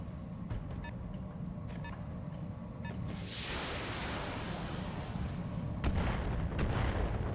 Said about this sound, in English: Someone's got a mortar.